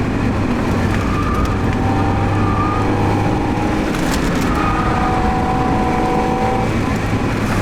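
A car driven hard along a winding road, its engine holding a loud, strained, continuous note with shifting pitch and steady wind and road roar throughout, with no voices.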